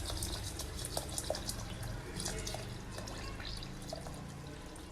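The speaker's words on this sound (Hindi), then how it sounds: "अब इसमें एकदम ठंडा पानी डालेंगे" Very cold water is poured into a lemon-juice drink while preparing falsa sharbat, giving a quiet, steady trickle with small drips and splashes at close range.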